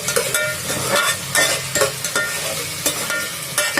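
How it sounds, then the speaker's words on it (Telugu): Mutton curry masala of ginger, garlic and onion paste frying in oil in a pan, stirred with repeated scraping strokes over a steady sizzle, close and fairly loud with no voices. "ఆయిల్ వేసుకొని బాగా వేయించి పచ్చివాసన పోయాలి"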